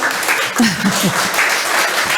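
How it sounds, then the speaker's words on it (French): A forum audience breaks into applause, a loud close wash of clapping with a voice briefly speaking over it partway through. "ça mérite bien des applaudissements"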